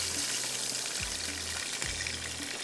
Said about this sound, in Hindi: अब इसके अंदर मैं डालती हूँ थोड़ा पानी ताकि थोड़ा सा ये आलू गले भी और ये जले भी ना